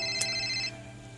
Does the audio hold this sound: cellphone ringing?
yes